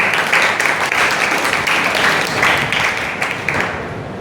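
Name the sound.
audience clapping at an ITI youth skills day event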